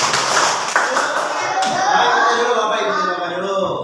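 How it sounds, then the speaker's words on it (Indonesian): A classroom group claps a short rhythmic spirit-clap pattern, with crisp bursts of hand claps mixed with voices chanting along. "Tepuk semangat."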